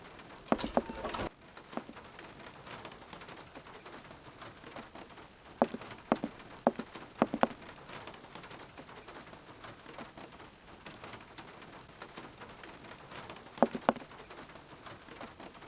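Steady rain patters on surfaces through a storm in the video game Syberia, a soft constant hiss broken by sharper drip taps and occasional louder splashes, fairly quiet throughout with no voices.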